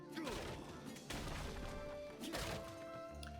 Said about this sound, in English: And now I'm gonna slash those barrels